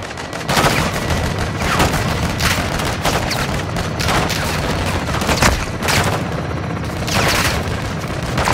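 Steady sustained gunfire from Call of Duty: Modern Warfare II, with loud booming blasts from an exploding vehicle breaking through at intervals, dense and continuous throughout.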